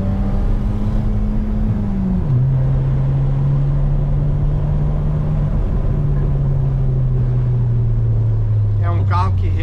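A Fiat Strada on 205 tyres, running on ethanol, has its engine pulled through the gears with a loud, steady drone that drops in pitch at a shift and then sinks slowly, with a brief rattle at the end.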